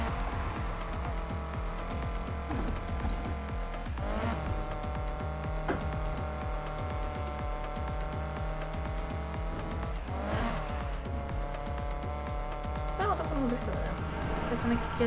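A car engine drones and revs in the Need for Speed Heat racing game, with tires squealing through drifts over a low throbbing hum while a person talks throughout.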